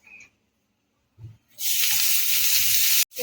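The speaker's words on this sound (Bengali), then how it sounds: "এই তেলের মধ্যেই আমি সেখানে বাঁধাকপিটাকে দিয়ে দেবো" Cabbage hits hot oil in a pan after some brief light clatter and bursts into a loud, steady sizzle that runs for about a second and a half before cutting off abruptly.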